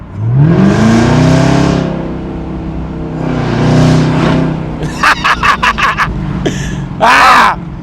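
A Chevrolet Camaro ZL1 in sports mode accelerating hard, two loud rising engine pulls followed by a rapid series of sharp bursts and pops, close and powerful.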